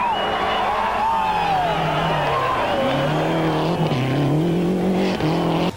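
A Lancia Delta Integrale drives past with a loud, continuous engine note whose pitch rises and falls through gear changes, close and steady from start to finish.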